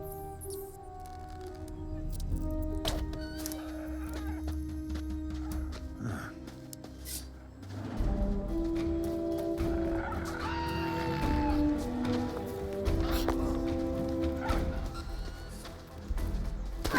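Chickens cluck and a rooster crows in the Gothic remake video game, with scattered clucks and squawks over a faint background for about seventeen seconds and no talking.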